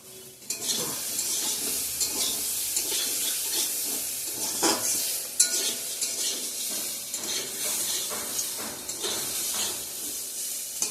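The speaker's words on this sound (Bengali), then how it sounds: "করলা আর বেগুন ভাজাটা করে নিচ্ছি।" Bitter gourd and eggplant fry in a pan with a steady, close sizzle, broken by repeated scraping and stirring sounds throughout.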